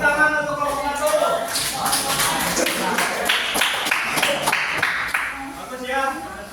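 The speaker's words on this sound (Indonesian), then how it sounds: "Tepuk tangan untuk kelompok dulu" Classroom applause for a student group after their history lesson presentation, a broad wash of many hands clapping steadily for several seconds with faint voices mixed in.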